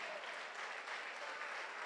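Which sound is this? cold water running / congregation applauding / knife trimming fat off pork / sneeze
congregation applauding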